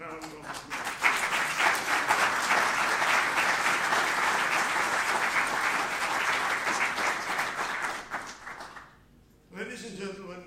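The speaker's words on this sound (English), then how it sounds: "I want you to give him a large round of applause." A large audience at a constitutional anniversary celebration breaks into sustained, loud applause lasting about eight seconds, then fades to near silence before a voice begins speaking.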